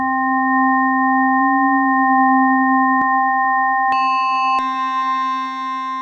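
Steady synthesized tones from an FM oscillator bank in an RYK Vector Wave synth module, a sustained drone with clicks as extra harmonic layers switch in, becoming brighter and denser partway through.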